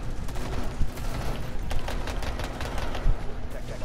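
Dense rapid gunfire in a Rainbow Six Siege–style video game match, with crackling bursts layered over continuous mixed game noise and faint voices.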